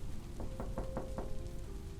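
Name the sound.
tapping knock on a door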